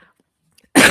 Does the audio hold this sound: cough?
yes